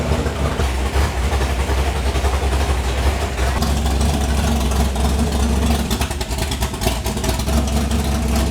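A 1971 Dodge Charger V8 idles after carburetor rejetting with smaller jets and timing tweaks, a loud, close, steady low rumble holding even throughout, with slight unevenness near the end.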